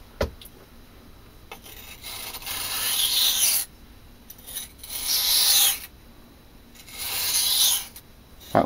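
Knife blade drawn along a coarse budget whetstone at the bevel during bushcraft sharpening, three long raspy strokes with short pauses between, close and fairly quiet with no talk.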